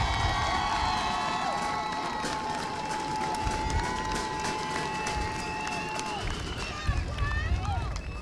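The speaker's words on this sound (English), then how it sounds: "Let's give another round of applause for the class of 2022." Applause and cheering from the crowd at a high school commencement ceremony, a dense sustained roar of clapping with shouts and whistles, moderately distant.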